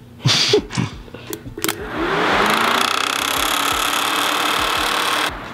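After a few clicks and knocks, the electric radiator fan motor of a turbocharged Datsun spins up into a steady, even whir that runs for several seconds, then cuts off.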